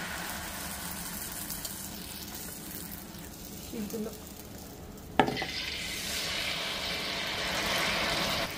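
Rose cookie (achappam) batter fries in hot oil, a steady close sizzle and bubbling with a sharp metallic clink of the mould partway through.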